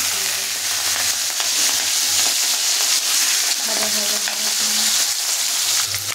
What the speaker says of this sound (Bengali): চিংড়ি মাছগুলো দিয়ে দিয়েছি, একটু লাল লাল ভাজা হবে